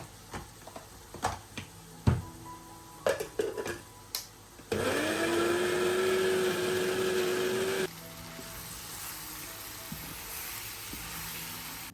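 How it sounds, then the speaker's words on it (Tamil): A kitchen mixer grinder purees tomato for a chicken bhuna masala. After a few scattered clicks and knocks, it bursts into a loud, steady whirring grind for about three seconds and then cuts off, leaving quieter background noise. "அதோட நான் வந்து டொமேட்டோ ஒன்றும் சேர்க்க பார்க்குறேன். அதை நான் கிரைண்டர் பண்ணி தான் சேர்க்க பார்க்குறேன்."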